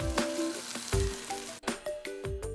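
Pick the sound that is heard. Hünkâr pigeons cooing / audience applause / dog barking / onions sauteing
onions sauteing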